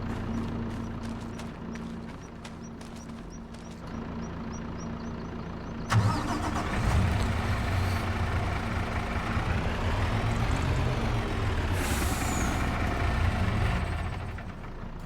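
A truck engine in Farming Simulator 25 cranks and catches at about six seconds, then runs loud and steady as the vehicle pulls away, the engine note swelling and shifting as it moves.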